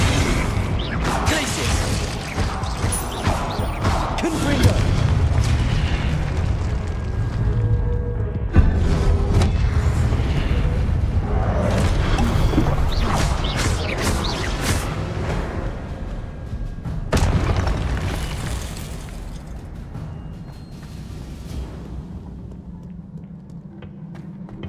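Fire-blast spells burst in Hogwarts Legacy, sharp booming hits landing at intervals over a dense, continuous wash of combat effects and music.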